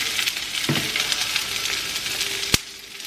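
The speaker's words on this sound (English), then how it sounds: "I'm gonna toss my asparagus into this pan" Asparagus tossed into a low-heat frying pan with onion powder nearby, giving a steady close sizzle and frying hiss, a soft clatter as the spears land early on, and a sharp tap near the end.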